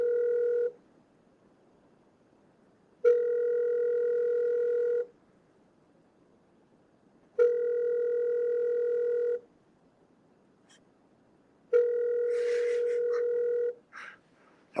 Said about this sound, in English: Hard to do an interactive live call if I can't dial into the number.